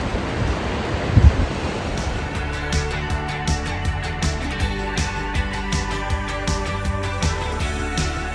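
Rushing water of a river and waterfall at the Lower Falls in New Hampshire's White Mountains, a steady broadband roar that fills the scene without letup, close and loud.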